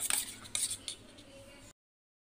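Eggs with a pinch of salt are beaten in a bowl for an omelette, giving quick, faint clinks and scrapes of utensil against the bowl that stop abruptly partway through, leaving silence.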